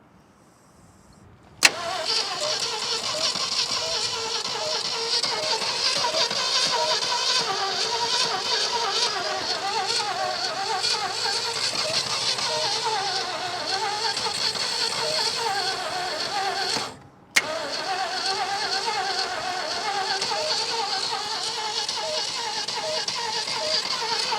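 A 1980s-era Ford truck engine, abandoned for 39 years and fed by a suspect carburetor, cranks loudly and continuously for about fifteen seconds, pauses briefly, then resumes cranking, with a sharp click at the start.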